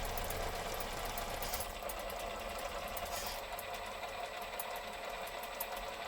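A Tamiya Grand Hauler RC truck's electric motor runs steadily through its gearbox, a continuous faint whirring hum with a slight rattle, quiet and unbroken.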